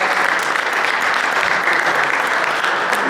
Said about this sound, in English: give these people a round of applause